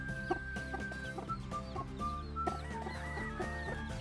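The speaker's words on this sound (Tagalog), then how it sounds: "Matapang kasi yung inahin na gold na yan na mamalo pag kinukuha ni Richard ay baka mapalo ang sisiw" Steady, soft clucking from a gamefowl hen with faint chick peeps, repeating in quick bursts over a constant background hum.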